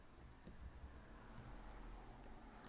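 Keystrokes on a computer keyboard as a Linux firewall command is typed, a quick irregular run of light clicks heard close and fairly faint, with no talking.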